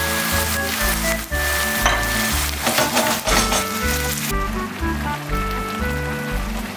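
Wild mushrooms sizzling loudly in a pan with wine, a steady close frying hiss and bubbling crackle throughout, over a low repetitive musical hum.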